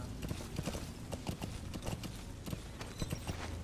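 Horse hooves clip-clop in Metal Gear Solid 5, a brisk steady rhythm of close thudding footfalls that continues throughout without any talk.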